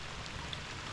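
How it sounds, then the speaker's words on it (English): Rain patters steadily on a river during a float down the Youghiogheny, a faint, even hiss with scattered drops. "the rain is picking up,"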